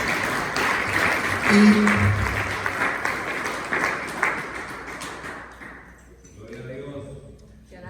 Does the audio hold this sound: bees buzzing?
no